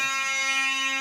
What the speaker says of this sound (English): everything exploding and the fire alarm going off